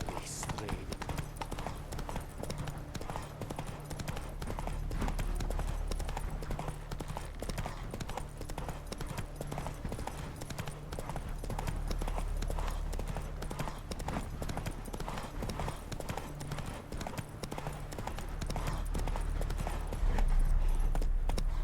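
Steady rhythmic hoofbeats of a horse trotting in an open-world fantasy video game, continuous and fairly close throughout, with a low game soundtrack drone underneath and a voice talking over it at times.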